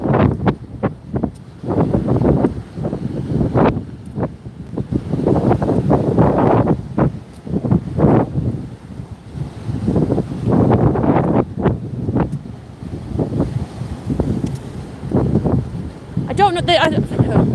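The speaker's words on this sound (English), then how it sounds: "Is the wind staying out of the microphone still? Because it is getting blustery." Gusty wind buffets a microphone on a blustery beach at Prestatyn, loud uneven rumbling bursts that come and go, with someone talking now and then under the gusts.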